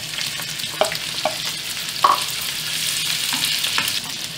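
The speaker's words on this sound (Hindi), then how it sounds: "फ्राई पैन गर्म हो गया, मैं 1 टेबल स्पून ऑयल डाल दूंगी इसमें। प्याज डाल रही हूँ मैं" Onions fry in a tablespoon of hot oil in a frying pan for an egg khagina breakfast, a close steady sizzle with a few soft stirring knocks and no speech.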